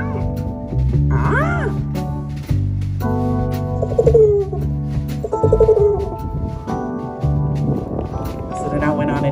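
A singer imitates a dove's soft cooing with her voice during a live jazz performance at an outdoor festival, the warbling calls rising over sustained band accompaniment.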